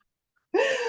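A single sudden sneeze bursts out loud and close after a second of near silence.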